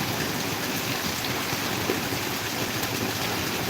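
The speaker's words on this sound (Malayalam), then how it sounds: "നല്ല മഴ" Heavy rain pours down in a steady, dense, even hiss with no gaps, loud and close, and no voices.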